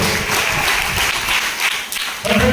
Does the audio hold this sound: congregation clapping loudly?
yes